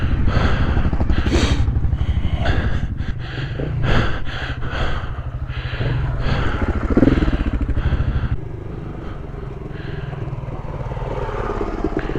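A Triumph motorcycle on a December trail ride, its engine running loud and close with a steady, rough rumble that swells and eases over about twelve seconds.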